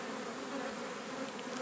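Honey bees buzz around an open hive during a spring inspection, making a faint, steady, close swarm hum with no pauses.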